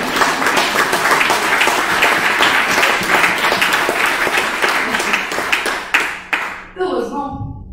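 Sustained audience applause fills a café venue, dense and steady, then thins to scattered claps before fading out near the end.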